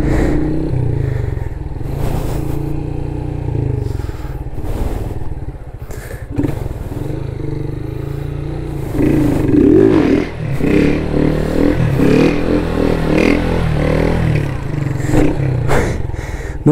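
A Honda Start 160 motorcycle revs repeatedly while doing donuts, a loud close engine with surging throttle bursts, scraping and clatter, and occasional voices.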